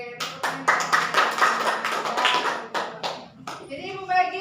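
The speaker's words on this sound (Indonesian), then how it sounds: "Oke, tepuk tangan" A classroom group claps hands in uneven bursts, a patchy mix of sharp taps and fuller clapping, with a voice speaking near the end.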